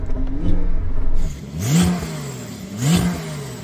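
A Porsche 911 Turbo S engine revs hard twice, loud and close, each blip rising and falling after a steady idle.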